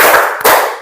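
A classroom full of hands claps twice in quick succession, close and loud. Each burst is crisp and broadband, roughly 0.4 seconds apart.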